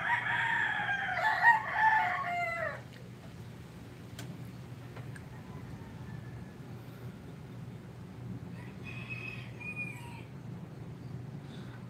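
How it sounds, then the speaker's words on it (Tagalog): A rooster crows once at the start, fairly loud, then a steady low outdoor rumble with faint distant bird calls, during a typhoon. "tumitilaok ng mga manok"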